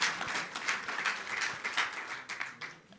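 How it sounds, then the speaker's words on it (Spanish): An audience at an annual medical society meeting in Mexico bursts into sustained applause after a stroke-care presentation, with dense, steady clapping that fills the room. "Un aplauso, por favor"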